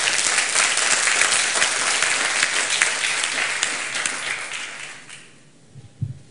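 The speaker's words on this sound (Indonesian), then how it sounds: "Tepuk tangan dengan penuh mujizat." A church congregation claps together during a sermon, a loud, dense burst of many hands that holds for about five seconds, then thins quickly to a few scattered claps and near-silence.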